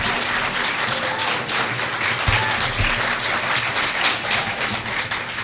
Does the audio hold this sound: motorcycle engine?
no